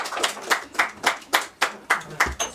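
Roughly ten distinct, evenly spaced handclaps ring out at a moderate pace in a room at a talk on the Maronite Church, fairly close and alone, without speech over them.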